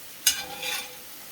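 Vegetables sweat in a hot pan, a soft sizzle that swells briefly after a sharp stirring scrape, then fades back to a low hiss.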